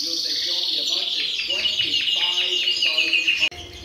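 Caged breeding birds held together in a flight in springtime keep up a bright, dense chirping and twittering close by, steady and busy for several seconds before cutting off abruptly near the end.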